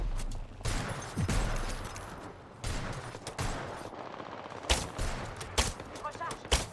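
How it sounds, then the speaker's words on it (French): Video game gunfire comes in several separate loud bursts and sharp single shots, broken by quieter gaps, with some talk in between. "J'ouvre le feu."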